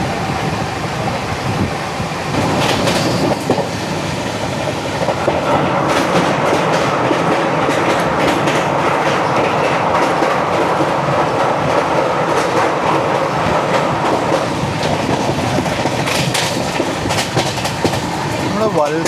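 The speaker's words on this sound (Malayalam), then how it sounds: "സ്വരാജ് എക്സ്പ്രസ് ആണെന്ന് തോന്നുന്നു." The Swaraj Express rolls along the rails with a continuous loud rumble and rhythmic clickety-clack of wheels over joints, heard from inside a moving train, with voices talking faintly beneath the noise.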